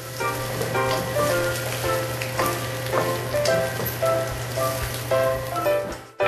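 Potatoes and green peppers sizzle steadily in a frying pan while being stirred, a continuous close crackle with scraping stir accents and a low steady hum beneath, ending abruptly.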